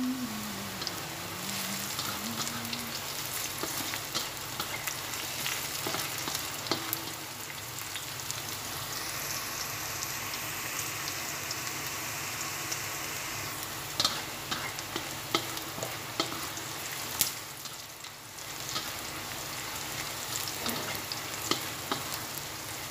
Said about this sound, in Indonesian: Diaduk hingga harum dan kekuningan.